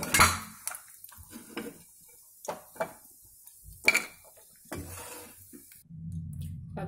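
A spoon scrapes and taps a pan while roasted cashews and almonds are lifted out, giving a series of short metallic scrapes and clinks spaced irregularly, close and fairly quiet, ending in a low rumble.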